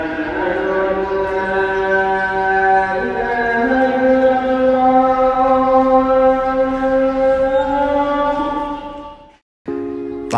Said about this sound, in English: What you're hearing is the sound of the call to prayer being recited over a megaphone in the city